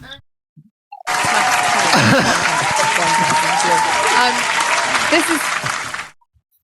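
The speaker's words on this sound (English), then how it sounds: "you should put the big crowd on" Large crowd applause bursts in loudly after a second of near silence, a dense steady roar of clapping and cheering that holds for about five seconds before cutting off sharply.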